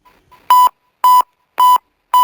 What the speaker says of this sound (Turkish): şu, an alarm çalıyor arkadaşlar